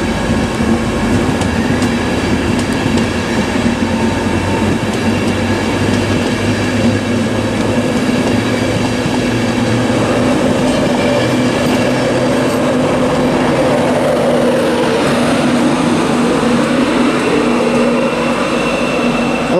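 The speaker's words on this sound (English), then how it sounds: "departing on now is the 1105 LNER service to London King's Cross from Leeds" An LNER express to London King's Cross pulls out of Stevenage station on the East Coast Main Line, a loud sustained rumble and hum of the train with rising motor tones, no voices.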